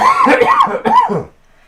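Two or three harsh, raspy coughs close up in quick succession, then sudden quiet.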